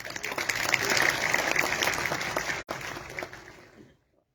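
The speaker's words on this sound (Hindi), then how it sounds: "सारे लोग तालियों से उनका स्वागत करें" Audience applause welcoming guests at a 2023 alumni conference, a dense burst of clapping that starts at once, breaks off briefly midway, then resumes and fades out over about four seconds with no talking.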